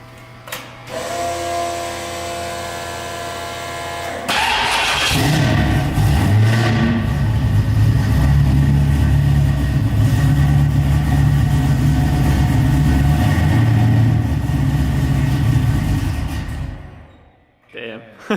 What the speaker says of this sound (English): Crank start. All right, let's start with the Lincoln.